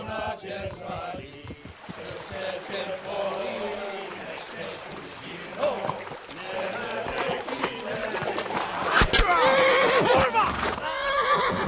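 A horse neighs loudly in the video game Kingdom Come Deliverance 2, its whinnies rising over clip-clopping hooves, running commotion and background voices.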